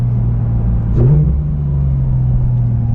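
A Porsche 911 GT3 RS (991.2) engine rumbles steadily with a brief rev near the one-second mark, then settles back into a low, constant drone.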